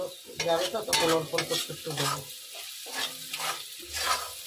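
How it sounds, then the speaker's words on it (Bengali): A spatula scrapes and stirs salted carrots frying in a pan for fried rice, with irregular close scrapes and knocks over a light sizzle and no talking. "তো লবণটা দিয়ে একটু নাড়াচাড়া করে নেব"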